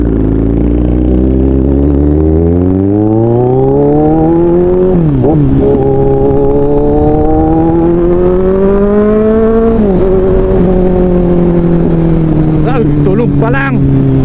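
A Kawasaki Z1000R motorcycle engine revs hard while riding, loud and close, its pitch climbing smoothly through gears with brief dips at each shift and a rising whine near the end.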